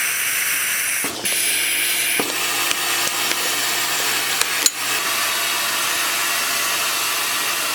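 A VakRapid 2.5 horizontal band sealer vacuum-seals a gas-flushed bag, giving a continuous loud airy hiss broken by a few sharp clicks and knocks from the machine.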